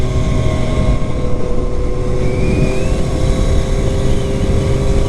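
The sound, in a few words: Triumph Street Triple R motorcycle engine accelerating in fourth gear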